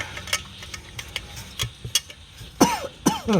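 A few short, harsh coughs break through scattered clicking and tapping beside a 1967 Dodge Coronet 440 Six Pack, with two louder, rougher coughs near the end, close to the listener.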